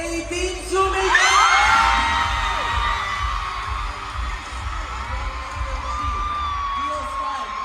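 Concert crowd shouting and cheering at a stage show, a loud swell of whoops and yells that builds after the first second and holds as a dense, sustained roar.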